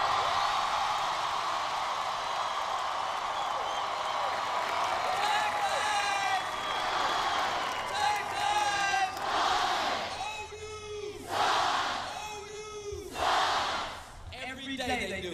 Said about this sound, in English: One more loud cheer.